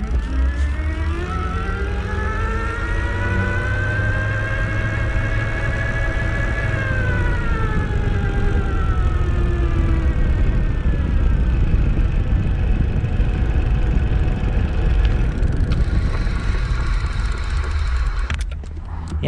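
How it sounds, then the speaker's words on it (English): EVELO Aurora Limited electric bike motor under throttle on a slight incline, a steady whining hum whose pitch climbs and then eases as it shifts gears, under continuous road and wind noise throughout. "my goal here is to demonstrate just what it sounds like and how effectively it shifts while under power."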